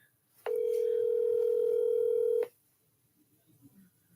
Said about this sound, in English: I'm gonna call up Sped's sister and see if she'll answer the phone